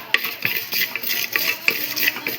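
Sesame seeds dry roasting in a bronze pan with no oil, a steady soft sizzle broken by regular scraping and stirring strokes, close and alone.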